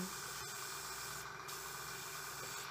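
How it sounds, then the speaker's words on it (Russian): A pastry chef's airbrush sprays hot water to flush itself clean, giving a faint, steady hiss with an underlying compressor hum that runs without pause. "и распыляю до тех пор, пока не пойдет чистая вода."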